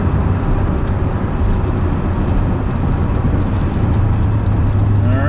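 A Corvette cruises at about 60 mph, a steady, loud low engine and road rumble with wind noise holding even throughout, close and continuous with no talking.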